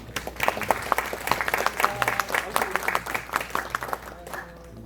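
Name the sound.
audience applause at a lecture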